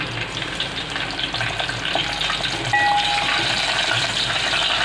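Garlic and curry leaves fry in oil as the base for a Malvani-style Konkani fish curry, a steady close sizzle with light stirring clicks that grows louder partway through, no voices over it.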